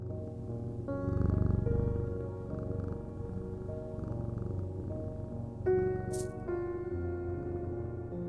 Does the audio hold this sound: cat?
yes